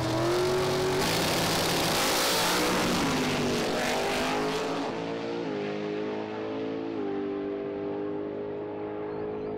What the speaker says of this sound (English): In the first semifinal, Swiss vet Bruno Bader in his '63 Chevy Corvette will face the big favorite Jan Eriksson